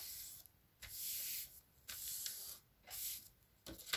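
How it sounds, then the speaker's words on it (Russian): A sheet of paper is folded and creased for an origami shirt, making quiet, close bursts of soft rustling and rubbing, about four in a row separated by short pauses, with no speech. "Дальше нужно его перегнуть так, чтобы края листа были согнуты в середине."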